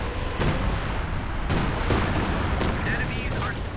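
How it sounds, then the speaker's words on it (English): Artillery strike in the Company of Heroes 2 video game: a dense, continuous rumble of booms and gunfire, with heavier blasts punching through at intervals. "You can use your troops to scout and then call in an artillery strike"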